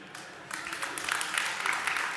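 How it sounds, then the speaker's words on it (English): Crowd applause at an expo main stage, starting after a brief quiet moment and building into steady clapping from a large audience, moderately loud and continuous with no speech over it. "Listen to the crowd when they give this applause"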